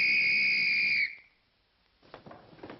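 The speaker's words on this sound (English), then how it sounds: "some guy comes around blowing a whistle" A whistle is blown in one loud, shrill, steady blast lasting about a second, then cuts off, followed by quieter, muffled sounds of activity.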